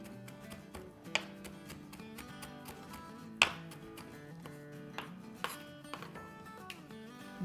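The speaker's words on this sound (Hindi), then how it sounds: "यहाँ हमारे पास देखिए ढेर सारा हरा धनिया है, उसको चॉप कर लेंगे" Fresh coriander being chopped by knife on a board, a steady run of quick, close, crisp taps with a few sharper louder strikes, with no talking.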